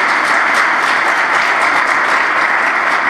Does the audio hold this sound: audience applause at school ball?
yes